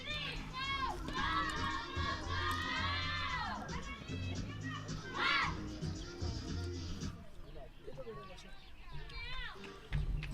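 Cricket players in a dugout cheering and shouting at a women's under-19 match between Rwanda and Malawi, high excited voices rising and falling over crowd noise, with a commentator talking over it.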